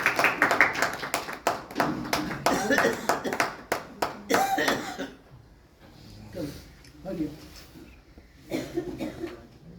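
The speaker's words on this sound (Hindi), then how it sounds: "तालियां तो बजती" Audience applause at an award and farewell ceremony, a burst of loud clapping that fades into scattered claps, with voices talking through the quieter stretch.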